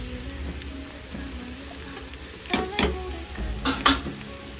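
Food sizzles while being stir-fried in a pan with chili and pepper powder, a steady close frying hiss with a few louder scraping stirs toward the end.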